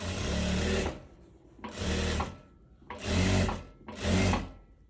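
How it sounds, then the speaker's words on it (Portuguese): Sewing machine stitching a dress seam on the reverse side of the fabric, four whirring runs of rapid stitching separated by brief pauses, close and steady. "A gente tá costurando no avesso aqui."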